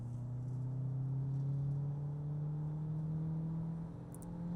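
A Peugeot 3008 Plug-In Hybrid 1.6 turbo engine drones loudly at a steady high pitch in sport mode, rising slowly as it pulls hard under full throttle, with no talking.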